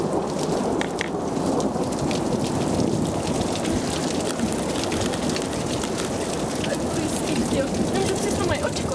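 Rain and hail pound steadily on a big climbing wall during a storm, a dense close roar of drops that never lets up, with low thunder rumbling underneath.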